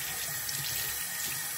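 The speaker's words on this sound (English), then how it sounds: "I'm going to rinse off the phone" Tap water runs steadily into a sink while a phone in a waterproof case is rinsed off, a close, continuous splashing hiss with no voices over it.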